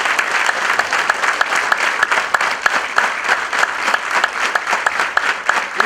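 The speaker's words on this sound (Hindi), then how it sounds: "please give big hand doctor Jayesh Patel" An audience at a talk claps for Dr Jayesh Patel, the hand claps loud and close, with distinct individual slaps repeating in a steady, fairly even rhythm throughout.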